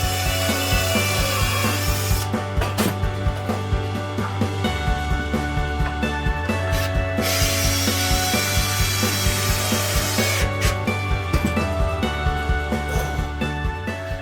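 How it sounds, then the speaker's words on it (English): A battery-powered jigsaw cuts wooden planks for a bike rack, close and loud, with a rapid buzzing rasp and steady stroke rhythm that swells into harsher bursts twice. "to cut out this weird shape, I use my battery-powered jigsaw"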